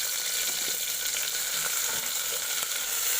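Red shallots fry in oil in a pan over low heat, a steady close hiss of sizzling with faint stirring ticks throughout and no voices.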